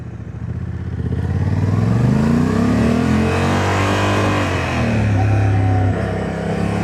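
A Honda Africa Twin motorcycle engine on a test ride revs up and shifts through rising and falling pitches, loud and close, with wind noise over the steady engine drone.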